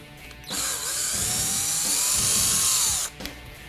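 A power tool whirs loudly for about two and a half seconds while removing hardware from a Ford F-150 rear bench seat. Its steady whine slightly rises and falls, followed by a short clunk after it stops.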